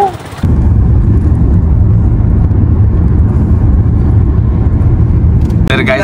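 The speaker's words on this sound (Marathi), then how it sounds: "Travel with rickshaw." Interior of a moving auto rickshaw on a road trip in Maharashtra, with a steady loud low engine drone and road rumble that keeps going without a break, with a brief noise at the start and end.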